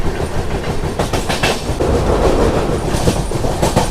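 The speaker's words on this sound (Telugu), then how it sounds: "సో ఇక్కడ చూసుకోవచ్చు మన ట్రైన్ ఫుల్ కర్వ్ అయితే తీసుకుంటుంది" The Secunderabad–Shalimar weekly AC express rolls along the rails through a curve, a loud, close, continuous rumble with rhythmic clickety-clack from the wheels passing over rail joints.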